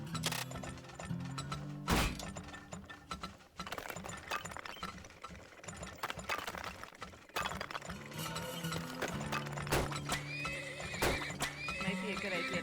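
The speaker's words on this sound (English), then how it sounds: "Might be a good idea to throw down a few extra horses too." Horses in the oil-drilling game Turmoil whinny and neigh repeatedly over rhythmic clip-clopping hooves and mechanical clicks, with someone talking over the game sounds.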